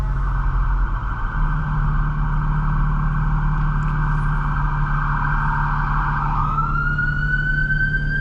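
An ambulance siren wails steadily and loudly on an Atlanta street at night, heard from inside a 2025 BMW M4 Competition xDrive, its pitch shifting near the end as it passes amid road rumble.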